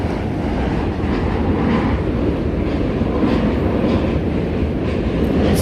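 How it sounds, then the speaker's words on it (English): A New York subway train rolls across the lower deck of the Manhattan Bridge, a continuous loud rumble and rattle of wheels on track, heard nearby with no one talking. "And more subway trains. Can't see it, but we hear it."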